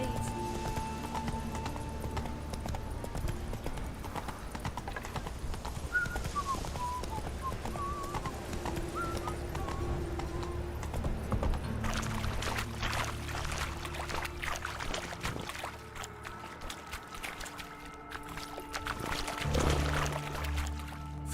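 Roach the horse galloping in The Witcher 3 video game, a steady rhythmic clip-clop of hooves running under game music and ambient effects, moderately loud and continuous.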